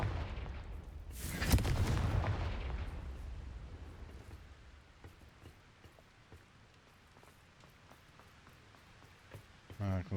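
Spell effects from the video game Hogwarts Legacy, including fire and explosive casts: a loud, close whooshing blast that fades into a long rumbling, crackling tail, with a sharp burst near the end.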